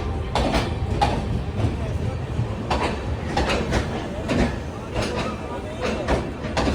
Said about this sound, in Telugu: హౌరా నుంచి ఎస్ఎంటీ బెంగళూరు డైలీ అయితే ఉంటుంది ఈ ట్రైన్ అయితే.